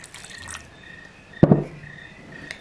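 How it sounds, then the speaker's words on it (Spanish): A small splash of water poured onto freshly ground dried chiles during Mexican cooking, heard as one brief close liquid gush after a few light drips, then quiet. "Así le voy a poner un poquito de agua."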